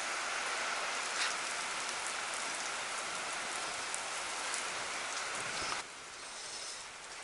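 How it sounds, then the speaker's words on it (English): Rain falling outdoors during a Cummins 12-valve 5.9L diesel engine rebuild: a steady, close wash of rainfall on surfaces with scattered drop hits, dipping slightly softer toward the end, no speech. "decided to rain on us, as you can see"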